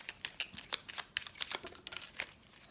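Tarot cards being shuffled and drawn by hand, a quick series of crisp papery flicks and riffles in an irregular rhythm, close and fairly quiet with no talk.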